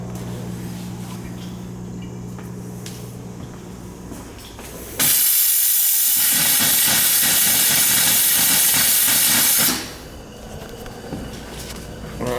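Compressed air forcing water out of plumbing lines, a sudden loud steady hiss bursting in midway, holding for about five seconds, then cutting off, with quieter hum before and after.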